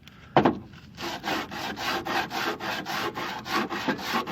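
Rhythmic hand sanding on a 1955 Chevy trunk corner panel, a steady series of rasping back-and-forth strokes after one sharp knock at the start, close and fairly loud.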